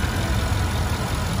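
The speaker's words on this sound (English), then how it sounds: "V8. This car sounds good too." A 2015 Porsche Panamera GTS with a 440-horsepower V8 runs at a steady idle, a close, continuous low rumble with no talk over it.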